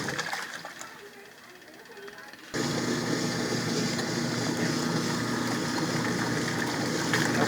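After its belt is reversed, a washing machine kicks in abruptly partway through and keeps running with a steady, loud mechanical whir and churn that replaces the quieter room sound before it.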